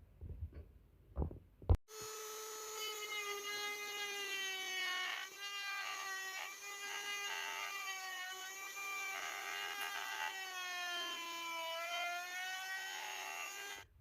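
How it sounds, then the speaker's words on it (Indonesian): After a few brief knocks, a small high-pitched mini grinder whines steadily, its pitch wavering slightly as it grinds plastic on a Jupiter Z1 motorcycle, close and continuous. "Jadi kita bakalan coak pakai tuner atau pakai mini grinder"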